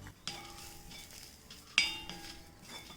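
Grated coconut stirred into a cooking pan along with Kashmiri chili powder: a soft, steady scraping and sizzling, with a sharp utensil clink against the pan near the middle.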